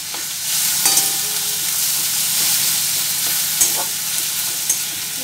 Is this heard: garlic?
yes